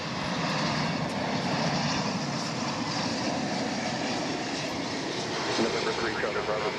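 A Boeing 747 jet airliner arrives at Dallas Fort Worth Airport with a loud, steady engine roar and rumble. A voice talks over it part of the time.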